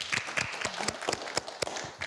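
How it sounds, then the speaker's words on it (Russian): Sparse studio audience applause on a Russian youth talk show, a handful of distinct, fairly quiet claps spaced irregularly rather than a full ovation. "Спасибо, аплодисменты."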